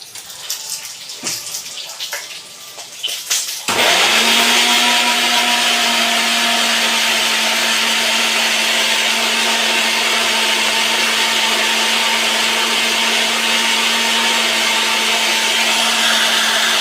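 Garlic, cumin, onion and ginger being ground to a paste in a kitchen blender: after a few soft handling knocks, the motor starts abruptly and whirs loud and steady right up close, with no talking.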